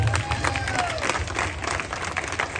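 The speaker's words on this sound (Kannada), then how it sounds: "ಮತ್ತೊಂದ್ಸತಿ ಜೋರಾದ ಚಪ್ಪಾಳೆ" An audience at a Kannada Rajyotsava skit event applauds, with dense, continuous clapping that fills the clip and a crowd murmuring within it.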